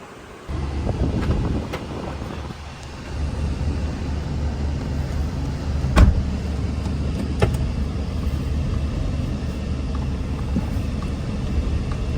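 A car pulling away and driving off, its engine rumble steady and close, with wind buffeting the microphone and a couple of sharp clicks partway through.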